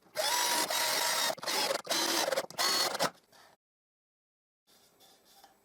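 Screwing a plywood piece onto a spline jig for a table saw: a loud, rattling mechanical whir runs in several short bursts for about three seconds, then stops; faint workshop noise follows.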